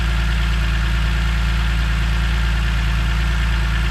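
A car engine idles steadily just after being started following an earlier failure, fitted with a redesigned CSL airbox; a constant, close, even low hum with no voices.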